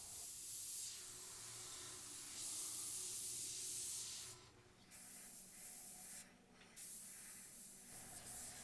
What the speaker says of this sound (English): So just using my airbrush freehand up close and further away.